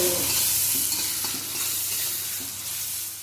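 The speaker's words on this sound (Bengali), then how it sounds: "তারপরে একটু ভাজা ভাজা করে নেবো" Crushed garlic and green chillies sizzle steadily in hot oil in a pan, with a spatula stirring and scraping through the close, continuous frying hiss.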